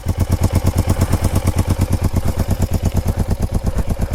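A 500cc quad bike engine runs on a forest road with a loud, steady, rapid chugging pulse, close and continuous, with no talk over it.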